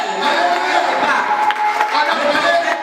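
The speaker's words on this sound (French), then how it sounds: "On acclame le Seigneur." Church congregation at a Sunday service cheering and acclaiming the Lord, a steady dense crowd roar of voices with scattered shouts, loud and continuous throughout.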